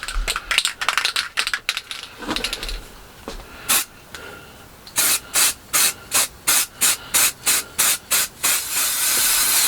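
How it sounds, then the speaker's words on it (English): Primer filler is sprayed onto a nosecone buck in a small shed. Early rubbing and handling noises give way to a rapid series of about a dozen short, even aerosol bursts and then one sustained hissing spray, all close. "So we'll start off with a coat of primer filler first."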